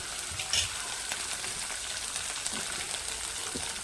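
Curry leaves and crushed garlic frying in a pan, a continuous close hiss and crackle of hot oil with small pops, steady throughout with no talking.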